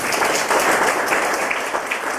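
Loud, dense applause from a congregation at a church service held in a women's prison, many hands clapping steadily and close throughout with no break.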